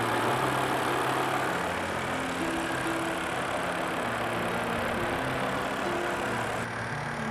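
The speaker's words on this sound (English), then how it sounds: "Take a look at the BMW V10 engine." A 2007 BMW M6 V10 engine idles steadily, with a continuous low rumble and a mid-range hum that stay even and close throughout, with no talking.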